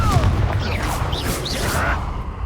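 A Confringo explosive spell fires in Hogwarts Legacy amid combat: a string of booming, blasting hits with whooshing, rising streaks of magic over continuous rumbling noise, all fairly loud and close.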